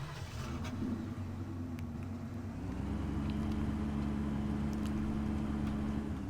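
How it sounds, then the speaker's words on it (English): A pickup truck drives in Farming Simulator 15, a steady game engine drone that rises a little in pitch partway through and then holds, loud and continuous, with no talk. "we're going to hop back in the pickup here and drive over to the other barn"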